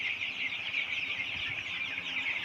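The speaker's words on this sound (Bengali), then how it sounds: "দেখেন আমাদের খামারে এই সেটে মুরগির সমস্যার কারণে কয়েক রকমের বাচ্চা হয়ে গেছে।" Broiler chicks of mixed sizes on a poultry farm fill the space with a constant, dense chorus of high peeping, steady and unbroken throughout.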